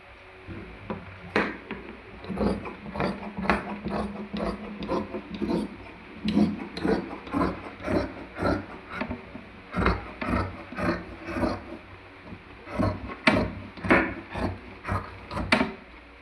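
Scissors cut through fabric for a nighty in a steady run of crisp snips, each one a short, close, rhythmic crunch, with no talking.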